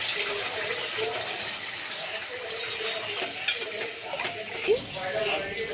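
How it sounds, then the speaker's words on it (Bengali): Water goes into a pan of sizzling spice and yogurt masala for a Bengali doi katla curry, with a steady hiss and fizz and a few knocks of the utensil toward the end. No one speaks. "এবার পরিমাণ মতন জল দিয়ে দেবো।"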